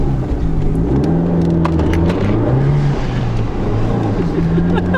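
A light car with a loud 170 hp engine drones steadily and close, its pitch wavering up and down as it runs, with faint voices underneath.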